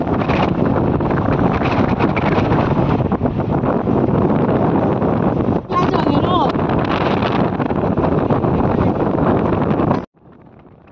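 Strong wind buffeting the microphone outdoors on the way to a mother's house, a loud continuous rumbling roar that cuts off abruptly near the end.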